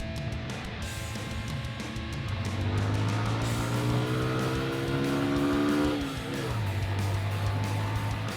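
A motorbike engine labours up a rough mountain road in Vietnam, droning steadily loud and close, with the pitch rising and then dropping sharply as the rider shifts gear, and a steady rush of wind over it.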